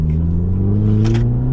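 A stage 1 remapped Audi TT Mk2 accelerates on the road, its engine a steady, loud low rumble that rises slightly in pitch with a brief rattle or clatter partway through, heard from inside the car with no talking.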